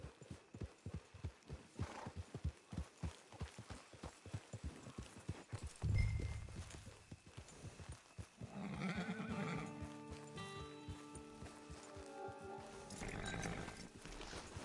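Steady rhythmic hoofbeats clip-clop at a walking pace in Red Dead Redemption 2 Online, then a horse whinnies loudly midway and the clopping continues under a low hum.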